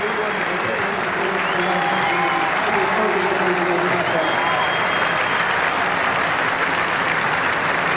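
A large cricket crowd at a one-day international in Australia applauds a wicket, with steady, dense clapping and cheering that fills the whole span without a break.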